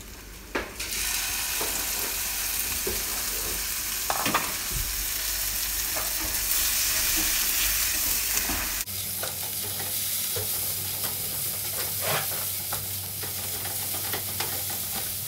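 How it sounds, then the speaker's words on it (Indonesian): Eggs sizzle steadily in a hot pan while a utensil scrapes and scrambles them, with occasional knocks against the pan. "Kemudian telurnya digoreng, diurak-arik."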